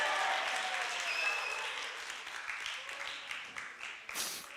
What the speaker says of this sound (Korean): 우리 주님께 영광의 박수 할렐루야.